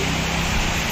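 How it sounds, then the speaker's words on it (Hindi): Steady broadband hiss of the season's first rain falling, a dense even patter with no gaps or distinct drops, fairly loud and close, with no voices over it. "देखो बारिश हो रही है।"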